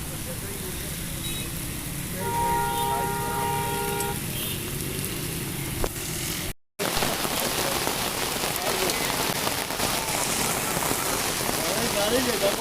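Heavy thunderstorm rain pours steadily onto surfaces in Islamabad, a dense hiss throughout, with a car horn tooting briefly near the start and a short dropout midway.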